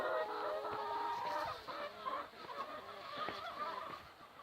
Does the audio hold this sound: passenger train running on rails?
no